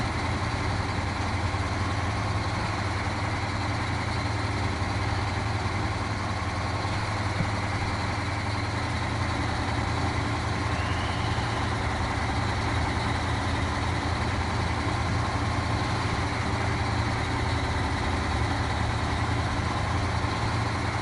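Heavy truck engine in SnowRunner, fitted with a bigger engine and hauling a trailer up sloped ground, holds a steady low rumbling drone with no pauses for the full stretch, loud and close, with no talk over it.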